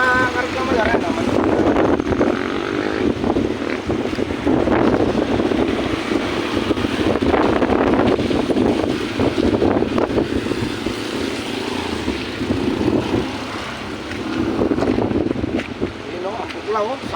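Strong typhoon Uwan wind blows near a river in Gapan City, a loud continuous roaring rush with gusty swells that lasts throughout, mixed with a rumbling low background.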